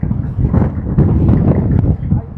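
Strong wind buffets the microphone on a bridge path, a loud continuous roar and rumble that fills the whole stretch.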